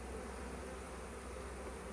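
Honey bees buzz steadily around beehives during a final inspection before the honey harvest, a low, even, continuous hum with no voices.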